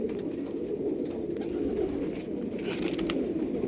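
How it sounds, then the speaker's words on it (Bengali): Pigeons coo continuously in a low, throaty murmur, several birds close by with a soft rustling background. "এই এক জোড়া পায়রা আমি জোড়া বেঁধে দিচ্ছি"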